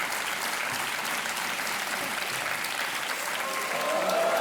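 A studio audience at a televised Indian quiz show claps loudly and continuously, a dense steady applause that swells slightly toward the end.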